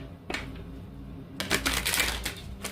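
An oracle card deck is shuffled by hand, starting with a brief riffle and then a longer burst of dense, crisp card flutter and slaps from about halfway through, close and fairly quiet.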